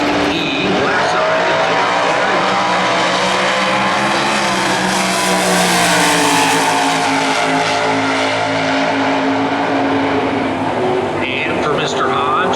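A Factory Superstock E tribute COPO drag car at a Norwalk points race, its loud sustained engine roar and drone filling the track, with announcer commentary running over it throughout.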